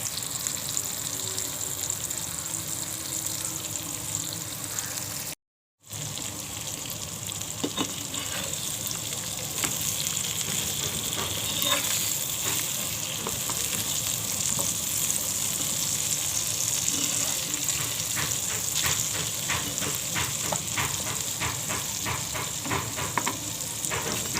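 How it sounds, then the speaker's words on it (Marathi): A steady crackling sizzle of pomfret pieces frying on a griddle continues throughout, loud and close, with occasional scraping and popping, briefly cutting out once. "सर्व हलव्याचे तुकडे मी तव्यावर फ्राय करायला घातले"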